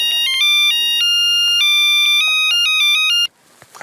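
A telephone rings with a bright electronic melodic ringtone, loud and close, playing in quick repeated phrases for about three seconds before cutting off.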